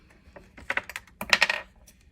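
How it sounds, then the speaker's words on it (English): Scissors snip through thin shrink film in a few quick crisp cuts, close by and fairly quiet, with a short rustling burst near the end. "now I'm just going to cut it with scissors"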